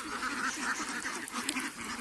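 A flock of egg-laying ducks quacks in a busy, overlapping chorus at a shallow pond, loud and close with repeated nasal calls.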